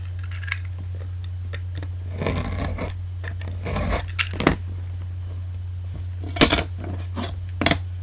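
Scissors cut along the sides of a red-tipped duct tape wallet in scattered, close snips and scrapes over a constant low electrical hum.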